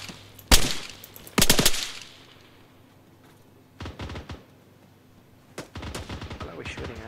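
Gunfire in the Arma 3 video game on the Zargabad map: two loud close bursts of automatic fire early, then further sharp bursts later with quieter gaps between them.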